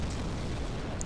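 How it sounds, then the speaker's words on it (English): A giant's hurled explosives burst in Dark Souls at Sen's Fortress, heard as a steady, rumbling, fiery roar that fills the background without a sharp single blast. "there's a giant throwing giant explosives at us"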